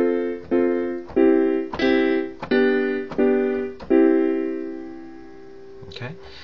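Six major-key chords, the progression of Twinkle Twinkle Little Star, struck one after another at an even pace on a sustaining keyboard, each ringing and decaying, with the last one left to fade before a brief soft knock.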